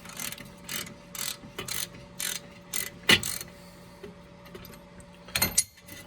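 A hand ratchet clicks in quick bursts while loosening the second nut on a car's front strut bolt, the short runs of ratcheting separated by brief pauses, close and clear.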